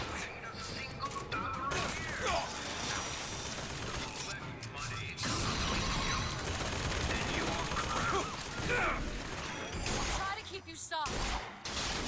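Gunfire in the video game BioShock Infinite, repeated volleys and mechanical clatter filling the mix almost continuously, with short gaps and someone speaking briefly over the combat.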